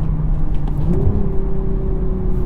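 A manual 2023 Toyota Supra hums from inside the cabin until a quick throttle blip raises the engine pitch for a heel-toe downshift. The higher, steady drone then carries on to the end.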